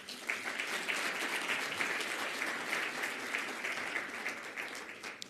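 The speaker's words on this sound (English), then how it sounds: "Another round of applause, please." A conference audience at a summit closing ceremony claps in sustained applause, dense and even, holding steady for several seconds before easing off.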